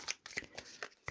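A deck of tarot cards is shuffled close to the mic in quick bursts, five or six crisp riffling flutters separated by short pauses, fairly quiet with no voice over it.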